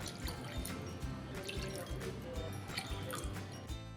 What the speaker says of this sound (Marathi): तीन वाट्या मी ह्यामध्ये पाणी घालणार आहे